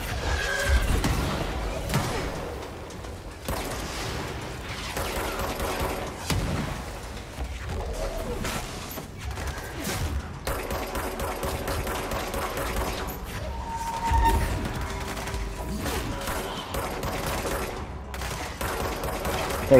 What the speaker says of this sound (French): ça tire de tous les côtés